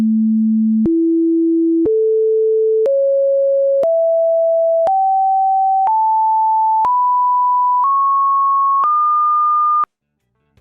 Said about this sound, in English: Let's take a listen at the harmonic scale of this A2 note.